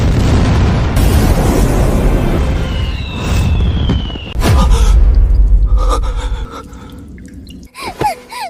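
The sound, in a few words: artillery cannons firing high-explosive shells in drama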